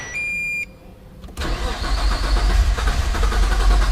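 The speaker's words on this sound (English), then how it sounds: "So you'll be checking for cold start." A short electronic beep, then a Toyota Supra engine running on E85 cranks on a cold start and catches, revving roughly and unevenly as it struggles to settle into idle.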